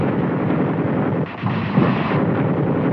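Heavy gunfire and artillery from foot soldiers and armor in a Korean War-era battle, a dense continuous roar of loud blasts and rumbling, with a brief dip before surging again.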